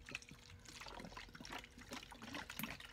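Homemade Dillon case lube trickles and pours back into a bottle, a quiet, close liquid stream gurgling softly for a few seconds.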